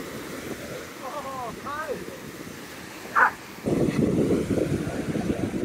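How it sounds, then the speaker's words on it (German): Sea surf breaking on a windy, choppy shore in Calabria, Italy, a steady broadband wash with wind noise buffeting the microphone that swells louder in the second half, with a few brief voices and other sounds over it. "Nämlich ganz schön ganz schön wellig heute."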